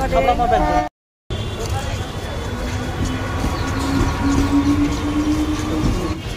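A train rumbles continuously with a steady low roar and faint rattling, while people talk over it.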